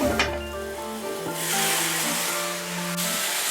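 Flank steak stir-fried with young ginger and pineapple juice sizzles loudly in a hot pan, a close steady hiss that swells after a brief clatter, with no talking.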